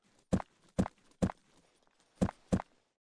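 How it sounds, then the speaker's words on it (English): Footsteps from the video game Arma Reforger: five sharp, fairly loud steps, three evenly spaced, then a pause before two more, against near silence. "you might think those footsteps are awfully loud"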